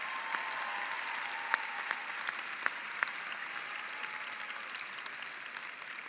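Applause from a large commencement crowd at Lesley University's 2019 afternoon ceremony, a broad even wash of clapping with a few crisp close claps popping out, continuing steadily throughout.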